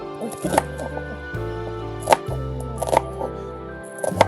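Onions being chopped on a cutting board for homemade green seasoning: a string of sharp knife chops, some isolated and some in quick bursts, close and clear over a steady background hum, with no talking.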